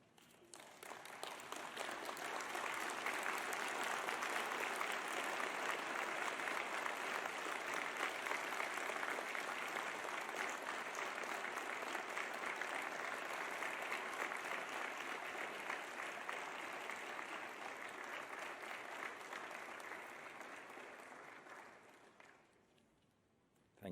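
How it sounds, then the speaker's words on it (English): At a university PhD graduation ceremony, a large audience breaks into sustained applause that builds quickly, holds steady and full for about twenty seconds, then tapers off. "offer them a big round of applause"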